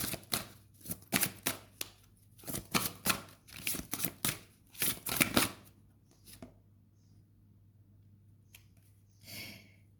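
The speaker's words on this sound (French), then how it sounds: "on va prendre une carte avec l'oracle des licornes" Cards from a unicorn oracle deck being shuffled and handled, a quick series of soft papery flicks and riffles, close and quiet, then a single later rustle.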